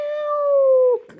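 A single cat meow is heard, close and clear, a sustained tonal cry of about a second that bends downward and cuts off abruptly.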